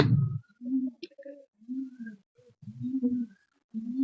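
Heavy Maddas fancy pigeons coo close by in soft, low, rolling calls, several separate phrases with short silent gaps between, preceded by a brief thump at the start.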